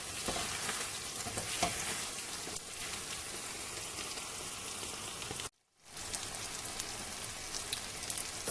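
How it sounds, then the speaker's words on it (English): Shito sauce frying in a large amount of oil while being stirred, a dense steady sizzle with crackling spatter that drops out briefly midway before resuming at full strength. "And then you keep stirring."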